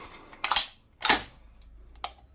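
Dust cover on an Umarex VFC HK416A5 gas blowback airsoft rifle snapping shut, with two sharp close clicks and then a fainter third one, in a quiet room.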